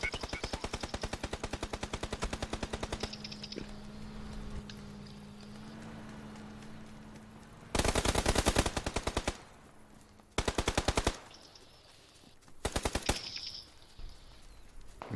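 Gunfire in the video game PUBG: long rapid automatic bursts and fast rattling volleys, loud and close, broken by quieter gaps holding a faint hum and scattered single shots.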